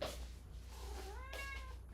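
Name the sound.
cat meowing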